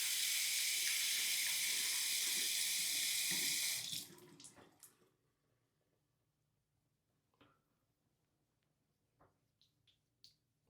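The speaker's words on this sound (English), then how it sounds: "let's wet it in cold water" Cold water runs loudly from a tap over an alum block for about four seconds, then shuts off, leaving faint drips, small splashes and light handling noises in a quiet room.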